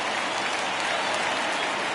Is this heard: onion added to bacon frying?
no